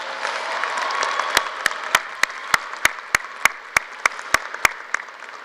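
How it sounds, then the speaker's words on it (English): Commencement audience at a 2019 Washington State University Vancouver graduation applauding graduating students: a dense, steady wash of clapping from a large crowd, with a run of sharp, evenly spaced louder claps cutting through in the second half. "Let's hear a big round of applause for them."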